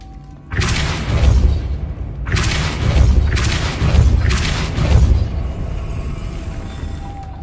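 A Depulso repelling spell in Hogwarts Legacy strikes with several loud, booming blasts that come in quick succession, each a heavy thudding burst that trails into a rumbling tail before everything settles.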